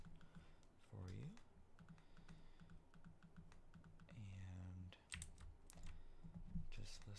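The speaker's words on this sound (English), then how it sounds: "Just listen to the sounds of my keyboard and my mouse clicking" A computer keyboard clatters with quick, close typing and mouse clicks during Minecraft survival play, quiet and intimate in ASMR style. Several whooshing swells come between the keystrokes.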